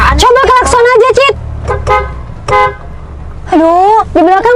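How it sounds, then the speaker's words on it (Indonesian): A car horn honks in a series of loud, close toots: a quick burst of short beeps, a few separate taps, then two longer blasts, with people talking between them inside the car. "Coba klakson aja, Cit."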